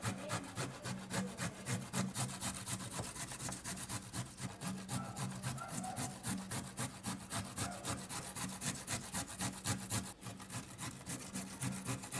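Mango ginger grated on a carrot grater for pickle, a rapid rhythmic rasping scrape repeating steadily up close with no talk.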